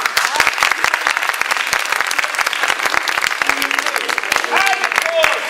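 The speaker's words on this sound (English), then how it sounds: "for a very, very big round of applause for this wonderful and very lovely window" Enthusiastic audience applause at a stage show, loud continuous clapping lasting several seconds with faint voices mixed in.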